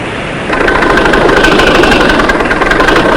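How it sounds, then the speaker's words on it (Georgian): Huge construction machines rumble in a mountain gorge, a loud, steady, close engine drone that swells after the first half second and holds with a faint knocking vibration; no one speaks. "დილიდან საღამომდე გუდუნებენ უზარმაზარი საფრთხო მანქანები."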